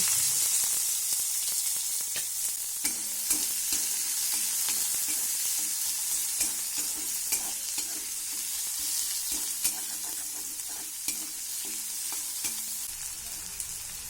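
Sliced onions frying in hot oil with panch phoron and bay leaf in a wok, a loud continuous sizzle with occasional stirring clicks, close up and without talk.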